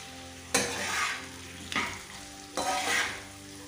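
Squash with ginger garlic paste and onion paste frying in a pan, stirred in three distinct bursts of crackling sizzle and scraping, each swelling then easing, close by with no talk.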